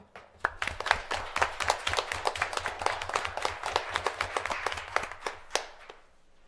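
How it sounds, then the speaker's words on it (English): At a school board meeting, an audience claps for two people honoured with a gift card, a moderate room of hands producing sharp, closely spaced claps that build, keep an uneven rhythm, and trail off near the end. "So if we can give them both a round of applause."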